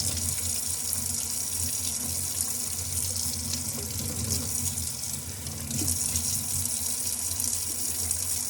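Tap water runs steadily into a sink in a home kitchen, a constant close gushing stream with no talk.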